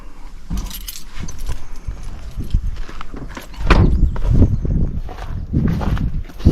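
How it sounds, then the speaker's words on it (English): A bunch of keys jangles and clinks near the microphone, followed by louder rustling and handling noises as they are picked up. "I'll grab those keys."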